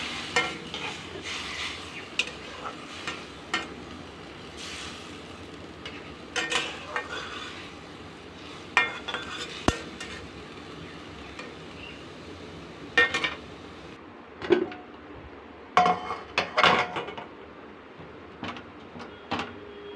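Jute leaves (pat shak) being stirred in a cooking pot, with bursts of scraping and clattering from the spoon against the metal over a soft, low sizzle, irregular and close, and nobody speaking.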